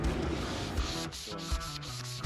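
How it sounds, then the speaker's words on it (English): Steady abrasive rubbing of sandpaper against a wooden kitchen cabinet panel, continuous and close, with a few rhythmic strokes and soft thumps toward the end. "So here you can see where I'm sanding."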